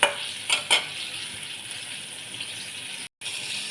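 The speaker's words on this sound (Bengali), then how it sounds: "এবার আমি কড়াইয়ের মধ্যে তেল দিয়েছি, এগুলো এক এক করে ভাজতে দিয়ে দেবো এইভাবে" Cornflour-coated paneer fries in oil in a kadai, giving a steady, moderate sizzle with a few sharper pops at the start and a brief dropout near the end.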